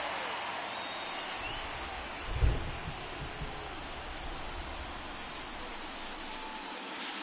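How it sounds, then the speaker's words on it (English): Steady rain falling on a baseball stadium in a video game, a continuous hiss of drops with a brief low thump partway through. "This rain is not letting up."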